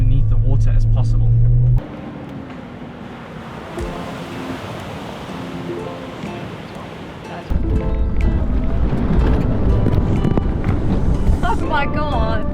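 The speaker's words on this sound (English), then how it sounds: "we're also gonna be wading through some water just now" 2019 Suzuki Jimny driving off-road and wading through water, engine rumble mixed with heavy wind buffeting and splashing, shifting from a loud start to a quieter stretch and back to strong surging noise, with voices now and then.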